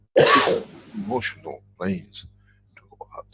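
A single loud, sharp sneeze bursts out near the start during an online workshop, followed by a person speaking in the background and a few fainter noises.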